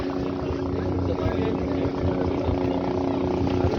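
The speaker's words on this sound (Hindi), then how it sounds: "तो वहाँ से हेलीकॉप्टर आ रही है।" A helicopter drones toward the helipad at Kedarnath, a loud steady rotor-and-engine roar with a rhythmic throb, close and continuous, with voices audible faintly beneath it.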